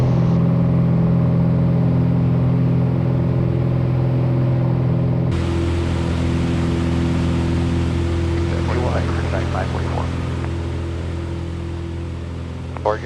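Piper Cherokee light aircraft engine running steadily during a lightly loaded climb, a loud continuous droning hum with a sharp rise in intensity partway through and faint chirps near the end.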